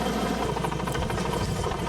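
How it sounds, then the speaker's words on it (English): Heavy thudding rotor wash and engine roar of a hovering flying crane helicopter at a stream bank restoration site, loud and continuous. "you can see this chopper bounces around pretty good."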